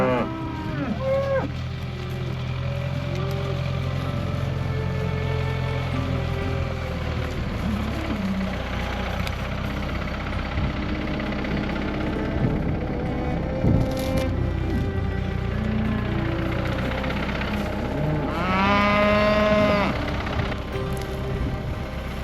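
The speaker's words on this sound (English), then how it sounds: "Cow fight." Cattle fight and moo on a farm. Long, loud moos rise and fall over a steady background rumble of an idling vehicle, with one especially strong bellow near the end.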